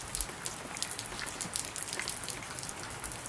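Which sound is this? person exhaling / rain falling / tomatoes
rain falling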